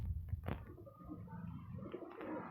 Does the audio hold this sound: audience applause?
no